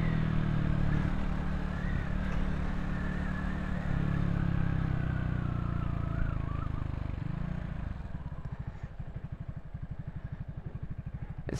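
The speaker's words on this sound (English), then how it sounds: "It's so hard to ride a motorcycle at 3 miles an hour" A motorcycle crawls along a highway at walking pace, its engine a steady close drone, settling into a rhythmic low idle-like chugging toward the end, with no talking.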